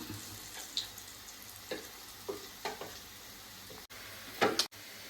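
Gobi manchurian pieces fry in oil over a low flame, giving a soft steady sizzle with scattered crackles and a few utensil scrapes and clinks, fairly close and without talk.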